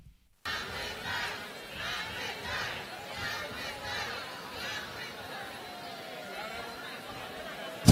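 Large crowd at a political rally cheering and shouting continuously, a dense steady roar of many voices heard from within the audience.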